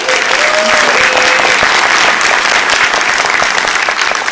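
Audience at the GaymerX2 opening ceremonies applauding, a dense, steady wash of many hands clapping at close range that fills the whole stretch, with a faint voice briefly heard early on.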